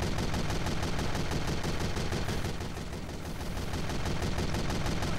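Rapid, continuous machine-gun fire from the game Team Fortress 2 rattles nonstop throughout, dense and loud, with explosions, easing slightly midway before resuming at full intensity.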